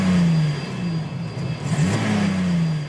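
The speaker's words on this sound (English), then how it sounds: "It's revving slightly, but I'm not doing it." A car engine hums steadily close by, then its pitch rises briefly in a light rev and settles back down.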